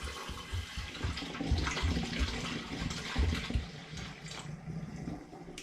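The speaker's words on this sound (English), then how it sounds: "it's going to be a straightforward pour through a funnel" Homemade summer garden fruit wine pouring through a funnel, a steady close splashing liquid stream that fills and gurgles continuously throughout.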